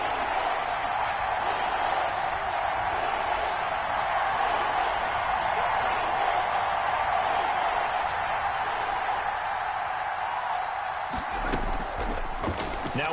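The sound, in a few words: stadium crowd cheering in a PS4 football video game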